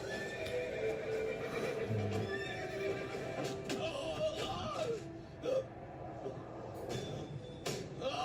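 A wild horse from the film Arundhati neighs and whinnies loudly amid a dense, dramatic movie soundtrack, with hooves clip-clopping and other scene noise layered around it throughout.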